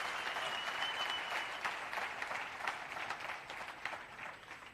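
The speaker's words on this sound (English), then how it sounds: "Please can we give our panelists a round of applause?" Sustained applause from a conference audience honoring panelists at a township economy summit, steady dense clapping throughout at moderate loudness with no talk over it.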